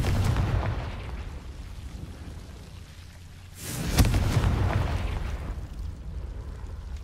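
A Confringo blasting spell explodes in the Hogwarts Legacy video game: a single loud boom at mid-clip over a rumbling ambient battle bed, with broad crackling noise before and after.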